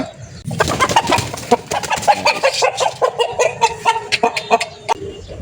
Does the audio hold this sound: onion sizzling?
no